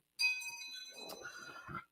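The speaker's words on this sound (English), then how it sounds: "I'll hit the chimes one more time" A set of chimes is struck once, and bright ringing tones sound close and clear before slowly fading under a soft rustle and clatter.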